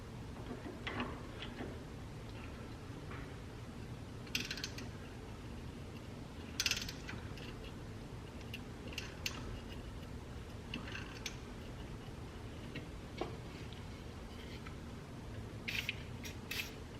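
A $12 threading tap cuts threads into a car's brake caliper mount, driven by a ratcheting wrench, giving soft repeated mechanical clicks and grinding ticks at close range with no talking.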